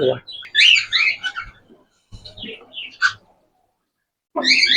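Bright, high chirps and warbling calls from cockatiels come in bursts with short pauses, close by, with faint murmuring in the background.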